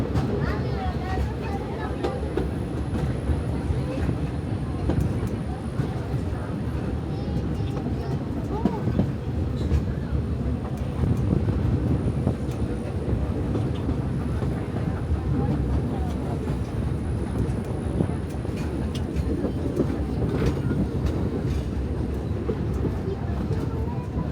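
The Walt Disney World Railroad train rolls steadily along its rails at the Magic Kingdom, a constant low rumble with faint metallic rattles, and voices talking over it now and then.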